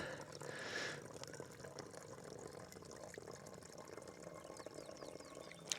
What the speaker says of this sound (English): just literally squeeze the water through the filter